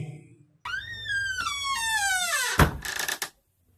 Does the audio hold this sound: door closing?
yes